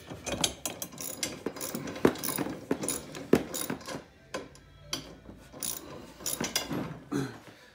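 A ratchet tightens the mounting bolts of a Pelican Snow Trek 75 sled tow hitch, sending out rapid metallic clicking runs in repeated close bursts alongside small knocks of tools and hardware, with no voices.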